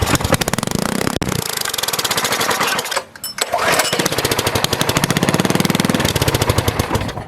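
A small go-kart engine runs steadily with a rapid, loud putter, then briefly drops out and picks back up to run on without stopping. The engine had earlier been primed and kept dying right after starting.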